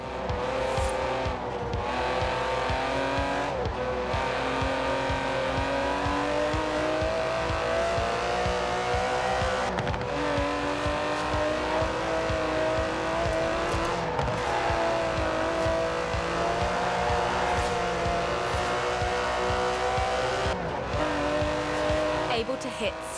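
Aston Martin DB11 with a 5.2-litre twin-turbo V12 in the racing game Forza Horizon 4, its engine droning loud and steady throughout, with tire noise and brief dips in the sound as the car shifts gears and changes speed.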